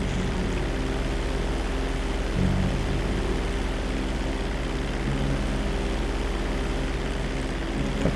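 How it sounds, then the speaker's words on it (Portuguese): A helicopter lifts off in the GTA 5 video game with a constant droning rotor and engine hum. The drone holds an even, moderate level throughout with no talk. "Helicóptero Paraguai levantando voo"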